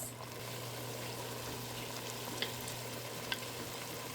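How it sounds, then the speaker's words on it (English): Grated carrots sauté in butter with onions, making a soft, steady sizzle with a couple of faint stirring clicks, quiet and without talk. "we're gonna go ahead and add in our grated carrots, and we're gonna get that worked into the butter and the onions"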